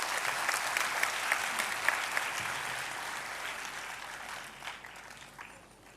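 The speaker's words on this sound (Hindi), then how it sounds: "सबसे जोरदार तालियां बच्चों के लिए" An audience at a national integration camp inauguration claps for the children, with dense, loud applause that holds steady and then gradually tapers off toward the end.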